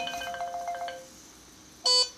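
A mobile phone ringtone plays a quick run of bright melodic tones, goes quiet, then gives one louder sustained electronic tone. No one speaks.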